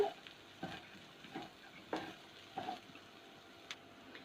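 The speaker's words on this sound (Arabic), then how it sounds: "هنقلب كويس لغاية ما يتشوح كل المكونات دي مع بعضها كويس جدا" Turkish-style lentil soup ingredients being stirred and sautéed in a pot, with soft scraping strokes and a faint low sizzle recurring every second or so, quiet and close.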